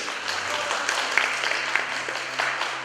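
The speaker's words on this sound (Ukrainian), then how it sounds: "Аплодисменти!" A school award ceremony for district informatics olympiad winners draws a steady wash of audience applause, moderately loud and continuous with a few sharper claps.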